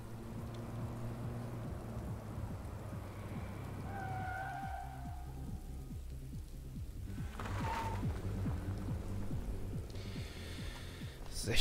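Steady rain falls in the video game Road 96, a soft continuous patter with a low rumble underneath, faint and even throughout, joined by brief tonal game sounds partway through.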